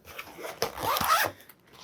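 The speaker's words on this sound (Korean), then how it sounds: "이 지퍼를 열어보면은" A zipper on a camera backpack slides open in one close, rasping pull lasting about a second, with a couple of small tugs first.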